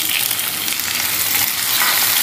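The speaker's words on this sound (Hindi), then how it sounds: "और इसको भी हल्का सा सेक लेंगे लहसुन को" Garlic and tomatoes sizzle and fry in a pan while sambar is cooked, giving a steady close hiss with faint crackle, no talk.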